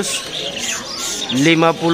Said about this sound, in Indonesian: Di sini juga ada jalak suren anakan ya teman-teman nih.